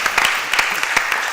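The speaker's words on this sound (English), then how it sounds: "You can clap, go ahead. You can clap." An audience at an event on Black voter mobilization claps in a brief, loud, dense burst of many hands, sustained from start to finish, with no talking.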